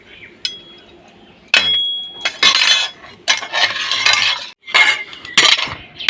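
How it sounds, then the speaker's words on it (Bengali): A young child plays with a metal spatula in a wok while sweet potato malpua batter is prepared, producing loud, irregular bursts of clanking and scraping separated by brief pauses. "দেখুন বন্ধুরা, কেমন কড়াইতে খুন্তি নেড়ে নেড়ে আমার নাতি খেলা করছে।"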